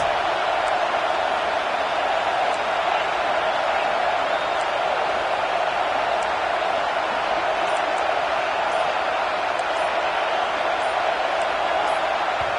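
A football stadium crowd roars as one broad, steady wall of noise, loud and unbroken, with faint voices buried in the din.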